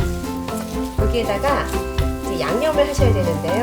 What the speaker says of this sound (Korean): 볶아주시면 금방 볶아지는 소리 들리시죠?